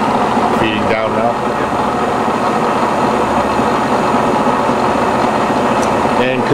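A Bridgeport Series II heavy-duty vertical milling machine runs as it feeds down, giving a steady, loud mechanical hum and whir throughout, with brief clunks near the start and end.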